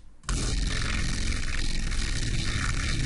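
A thick, distorted dubstep synth bass made in Ableton Live grinds continuously after a brief quiet start, dense and growling with no voices.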